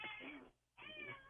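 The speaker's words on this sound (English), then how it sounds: "That was a cat." A cat meows twice outside an open window, each call a drawn-out, moderately loud cry with a short quiet gap between them and no talking.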